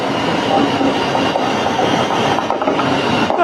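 A train on the Midland Main Line runs through Kentish Town station without stopping, a steady loud rumble and roar of wheels and carriages filling the whole stretch with no breaks.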